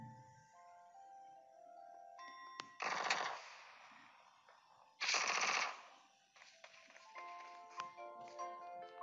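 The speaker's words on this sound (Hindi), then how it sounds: "तेजी से फायर कर रहा है।" Rapid bursts of automatic gunfire in the mobile battle royale game PUBG Mobile, two loud sustained volleys over game music and ambient effects, with scattered shots around them.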